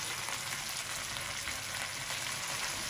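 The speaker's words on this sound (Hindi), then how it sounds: "गोश्त फ्राई होते हुए" Meat for chicken karahi frying in a pan: a continuous, fairly faint crackling sizzle, close and even throughout with light spattering texture and no talking.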